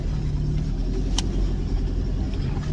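A car climbs uphill toward the summit of Phu Pha Thi, its engine a steady, close, rumbling drone with low-frequency road noise, continuous and fairly loud, one brief sharp click partway through, no speech.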